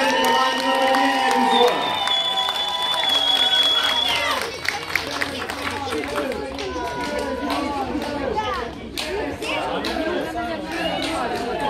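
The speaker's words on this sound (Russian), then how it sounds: "ваши максимально бурные и громкие аплодисменты команде нападения" Stadium crowd at an American football game in Ukraine's ULAF League, Zhytomyr Bisons against the Eagles, cheering and applauding in a steady roar, with an announcer speaking over it and musical tones early on.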